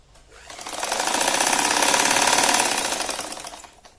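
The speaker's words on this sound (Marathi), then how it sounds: "आता आधी आपण ही पट्टी सरळ शिवून घेऊ" A sewing machine stitches a fabric strip in a straight seam for a ruffle-frill pillow cover, one steady, close, rapid whir that swells up and then slows to a stop over about four seconds.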